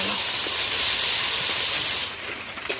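Ginger paste, salt and turmeric sizzle steadily in a hot pan while being sautéed for a jackfruit curry, a loud continuous hiss that drops away near the end.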